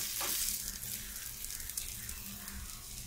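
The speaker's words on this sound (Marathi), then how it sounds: "असं चांगलं खरपूस भाजून घ्यायचं आहे" Malpua batter cakes frying in oil in a pan, a steady close sizzle with faint scraping of a spatula as they are turned.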